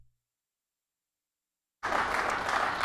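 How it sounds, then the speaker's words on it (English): Applause breaks out suddenly in a legislative assembly chamber after near silence, a dense steady clapping from many members that continues to the end. "Nice clap."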